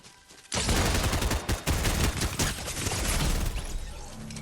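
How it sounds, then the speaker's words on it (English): Rapid automatic SMG fire from an exotic submachine gun in a shooter video game, a dense continuous burst of shots starting abruptly after a short quiet lead-in and running loud to the end with a brief gap. "Careful, one of them's got an exotic SMG."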